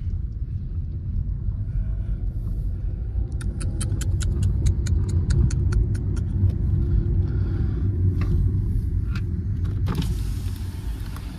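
Tata Altroz 1.2 and Hyundai Elite i20 1.2 drag racing: a steady low engine rumble heard from inside the car swells slightly, with a series of light ticking clicks and creaks over it.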